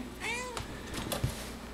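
A cat gives a single short meow up close, followed by a few faint rustles and thumps in a quiet room.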